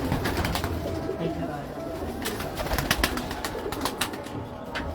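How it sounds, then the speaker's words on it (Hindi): Pigeons in a rooftop breeding loft in Lahore, with soft cooing and flutter amid steady close bustle, under people talking nearby. "ज़बरदस्त कबूतर हैं।"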